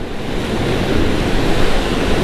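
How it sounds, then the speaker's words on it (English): Strong wind buffets the microphone at a sea fishing spot on the shore, with crashing surf blending into a loud, continuous roar and no gaps. "Don't go on a mega windy day like I've come."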